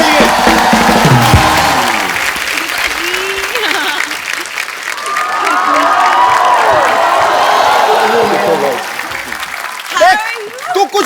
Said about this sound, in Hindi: जोरदार तालियां एक बार टाइगर और जैकी के लिए।